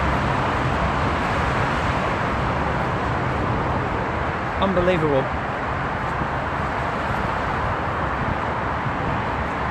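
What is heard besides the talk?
road traffic under Spaghetti Junction (Gravelly Hill)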